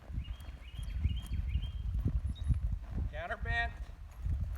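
A horse lopes through a cloverleaf pattern in a riding arena, its hooves thudding in a steady rolling beat while a rider speaks and birds chirp faintly in the background.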